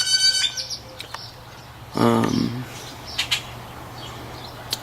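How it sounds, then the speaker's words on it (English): Young doves call in brief, soft bursts outdoors, with a short chirping run at the start and a clearer call midway against a low steady hum. "I know they're young doves"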